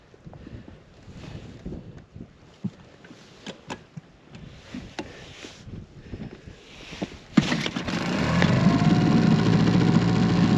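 An outboard engine on an inflatable boat on Loch Etive in the Scottish Highlands catches after scattered knocks and wind buffeting, then settles into a loud, steady, close idle with the choke still on.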